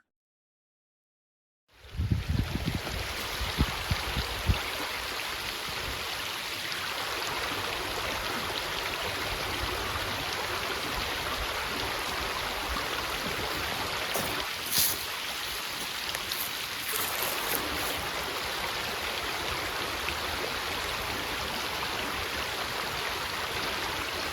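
A beautiful creek flowing, a continuous even rush and trickle of water that starts after a brief moment of silence and carries on without talk.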